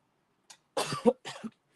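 A woman coughs a few times in quick, soft bursts close to the microphone, clearing a tickle in her throat during a quiet live painting session.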